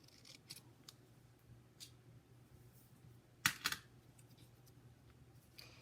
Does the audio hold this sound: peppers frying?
no